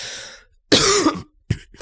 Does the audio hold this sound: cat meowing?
no